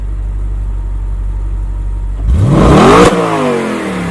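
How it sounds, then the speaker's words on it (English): A 2015 Audi RS5 B8.5 with its 4.2L V8 idles low and steady, then revs hard with its exhaust open in dynamic mode, the engine note climbing loudly for under a second before dropping back and settling. "If you were to switch it over to dynamic mode, for example, the exhaust opens up."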